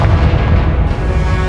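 Confringo blasting spell going off in Hogwarts Legacy, a loud, dense boom with a sustained rumbling blast that fills the whole moment, no talk over it.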